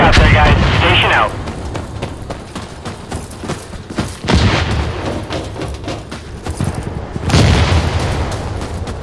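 In the video game Insurgency Sandstorm, an artillery barrage sends several heavy booms and blasts, some close and loud, others farther off and rumbling, spaced a few seconds apart under voices.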